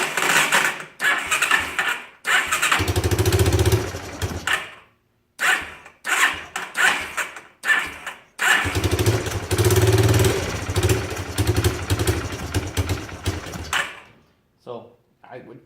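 A Yamaha Breeze ATV engine starts and runs roughly in short, uneven bursts of low rumbling that cut in and out, mixed with people talking nearby.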